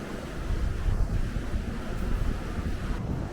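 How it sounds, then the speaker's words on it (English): Strong coastal wind buffeting the microphone outdoors during seaside painting: continuous loud, low rumbling roar with gusting surges and no talking. "this wind's really crazy"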